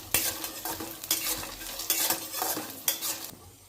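Cumin seeds, curry leaves and garlic, with green chillies, crackle and sizzle in hot oil in a home kitchen pan, stirred in several bursts of scraping with a spoon, fairly close and moderately loud.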